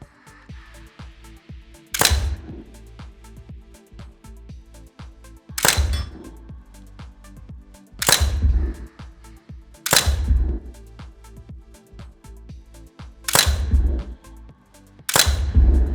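Six sharp metallic impacts of simulated shots hitting steel targets on a FATS 180LE training simulator ring out at irregular intervals, each a bright clang, over a quiet ticking background.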